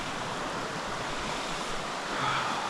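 Flowing river water rushes steadily at a ford in Washington turkey-hunting country, a soft continuous wash with a slight swell near the end, no talking.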